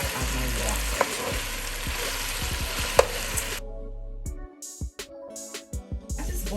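Oxtail sizzles and fries in oil in a pot, a dense crackling hiss with a few sharp clicks and stirring knocks, then the sizzle drops away into softer, intermittent spitting near the end.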